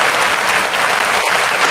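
Studio audience applause at an indie variety show: a dense, steady wash of clapping at close range, holding at full loudness throughout with no talk over it.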